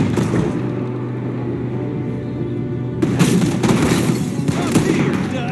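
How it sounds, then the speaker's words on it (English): Gunfire in a Red Dead Redemption 2 shootout, an ambush with a shooter firing from a window: dense, noisy bursts of shots that swell loudly partway through, over a steady low background with voices mixed in. "There's another one shooting from the window."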